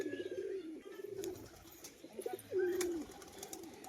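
A female pigeon coos in several low, throaty, rolling bursts, close by, with a louder final coo near the end and faint background noise.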